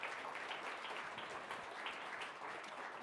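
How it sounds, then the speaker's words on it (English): Audience applause at a diversity, equity and inclusion discussion event, a steady wash of many hands clapping, fairly faint and continuous for the whole stretch with no talking over it. "Can we give her a round of applause?"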